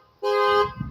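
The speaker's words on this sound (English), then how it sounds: "the panic alarm went off on what, like a Forerunner or something" A Toyota 4Runner's panic alarm sounds a single loud, steady, tonal horn-like blast lasting under half a second, then cuts off into low rumbling background noise.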